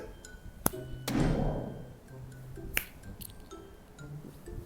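A finger snap triggers an attack in Roblox Anime Fighters Simulator, followed by sharp clicks, a swelling whoosh and several crisp impact hits against quiet game background.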